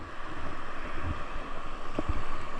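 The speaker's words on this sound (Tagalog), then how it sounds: "Malalaki pa talaga ang alon." Large ocean waves sloshing around a small fishing boat at sea, with rough wind buffeting the microphone and a short watery thump near the end, no talk.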